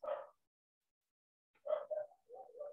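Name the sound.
dog barking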